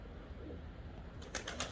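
Mardin tumbler pigeons in a coop, with a low steady murmur giving way near the end to a few sharp flutters or wing flaps. Faint overall, no voices.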